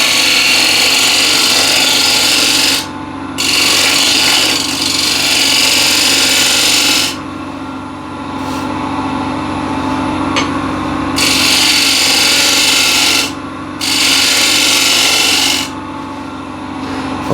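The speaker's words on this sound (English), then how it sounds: "I'll do a little bit of shaping on this side as well with a spindle gouge" Wood is shaved on a spinning lathe with a spindle gouge while shaping an enclosed vessel, a loud continuous scraping hiss broken by a few short pauses as the tool lifts.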